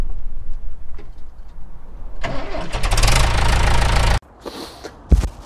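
A motorcycle engine, fitted with a new exhaust silencer, cranks and catches after a quiet stretch, roaring loud and close for about two seconds before cutting off abruptly, followed by a few faint knocks.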